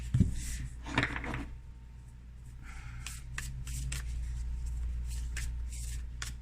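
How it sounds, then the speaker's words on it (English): Oracle cards are shuffled by hand in quick papery riffles and shuffles, soft and close, with a few brief pauses and a low steady hum underneath. "These cards are hard to shuffle."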